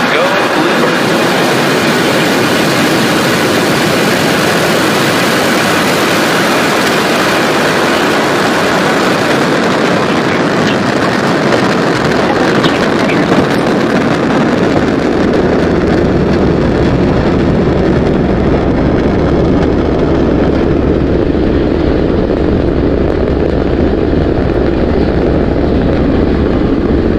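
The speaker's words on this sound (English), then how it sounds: "Ignition and liftoff. Go Falcon and go Bluebird." Falcon 9 rocket lifting off from Space Launch Complex 40 at Cape Canaveral: a loud, dense, continuous roar fills the whole clip, deepening into a heavy low rumble as it goes on, with no talk over it.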